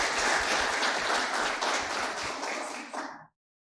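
Audience applause after a lecture at a Paraná state meeting of municipal agriculture and environment secretaries; steady, dense clapping from a crowd that holds for about three seconds, then stops abruptly.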